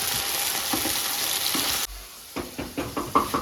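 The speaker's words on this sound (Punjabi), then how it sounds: "ਪਿਆਜ਼ ਸਾਡੇ ਵਧੀਆ ਤਰੀਕੇ ਨਾਲ ਭੁੱਜ ਕੇ ਹੁਣ ਆਪਾਂ ਇਹਦੇ ਵਿੱਚੇ ਪਾ ਦਾਂਗੇ ਕੱਟੇ ਹੋਏ ਟਮਾਟਰ" Chopped tomatoes tipped into a pan of fried onions for Punjabi saag tadka: a loud, steady sizzle cuts out abruptly, then returns in a series of hissing bursts as the pieces hit the hot oil and get stirred.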